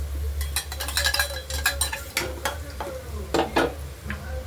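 Thick blended onion, tomato and green chilli paste sizzling and spluttering in a hot pan, with repeated scraping and stirring strokes and a steady low hum underneath.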